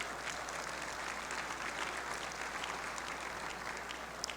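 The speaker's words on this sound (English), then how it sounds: "Can I please get a round of applause" A room full of people applauds steadily, a dense patter of clapping that holds at an even level throughout.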